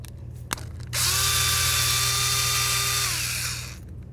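A power drill or impact tool spins out locking hub bolts on a 1999-2007 Ford Super Duty F-250 front axle, a sharp click followed by one loud, sustained high whir lasting about three seconds before winding down, with no talk.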